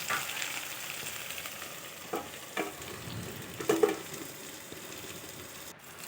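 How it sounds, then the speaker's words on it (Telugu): Green chillies and onions sizzle softly in a little oil while being stirred, a steady close frying hiss with a few scraping knocks of the spoon against the pan and no talking. "కొంచెం ఆయిల్ వేసుకొని పచ్చిమిర్చి ఉల్లిగడ్డల్ని బాగా మగ్గనివ్వాలి ఒకసారి ఇలా బాగా కలిపేసుకొని"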